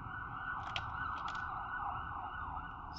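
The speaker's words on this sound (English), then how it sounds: "there's the siren" An emergency siren wails steadily in the distance over low city traffic rumble, faint and continuous, with no talking.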